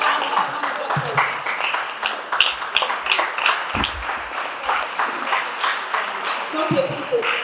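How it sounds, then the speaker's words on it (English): An audience at a community organization's visit to a school for the blind in Abuja claps continuously for several seconds, a dense, steady wash of applause with a voice talking over it. "Please put your hands together for a very good show. Round of applause."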